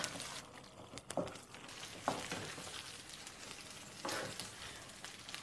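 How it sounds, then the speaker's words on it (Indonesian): Butter chicken simmering in a pan, a soft steady sizzle and bubbling with occasional faint stirring clicks, close and quiet. "Kita punya ayam ni tergaul sampai dia mendidih."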